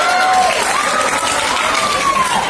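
A crowd applauds an SMA 1 school team at a regional high-school marching and drill competition, a loud, dense, steady clapping with cheering voices and a whistle-like tone over it.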